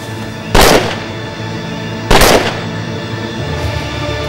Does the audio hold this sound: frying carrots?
no